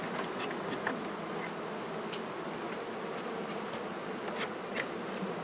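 A steady, dense buzzing of many honeybees around a hive during new queen introduction hums on without pause, with a few individual bees flying close by.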